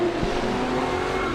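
A drift car with a small BMW V8 and Mercedes supercharger drones loudly at steady high revs, a gritty continuous engine roar close by, with no voices.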